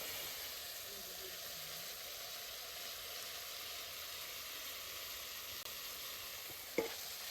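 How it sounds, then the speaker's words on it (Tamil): Tomatoes sauté in oil with hand-pounded masala powder, giving a steady, soft hiss and sizzle from the pan. A brief clink or tap sounds near the end. "தக்காளி வதங்கிட்டு நாங்கள் இடித்து வச்ச மசாலா தூளில் போடுறோம்."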